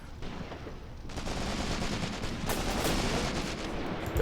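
Gunfire rattles through a WW2 battle in the strategy game Graviteam Tactics: Mius Front. It is a continuous, rumbling barrage of overlapping shots that swells slightly partway through, with no voices over it.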